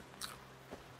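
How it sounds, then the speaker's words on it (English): In-game eating sounds: two short crunchy bites, one sharp and bright, a softer one half a second later, faint and isolated against quiet background. "Who is munching and crunching?"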